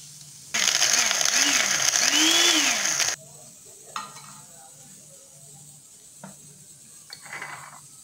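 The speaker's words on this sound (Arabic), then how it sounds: "غنعاود نطحن كمية ثانية وغنستمر بنفس العملية حتى نكمل الكمية كاملة." Shrimp shells whir in a small electric grinder for a loud, steady burst of about two and a half seconds that stops abruptly, followed by a few faint clicks and taps.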